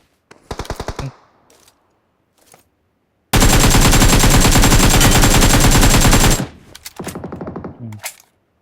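Gunfire from the battle royale video game PUBG: short bursts of rapid automatic shots, then a sustained roaring three-second volley, followed by more clipped bursts, loud and close.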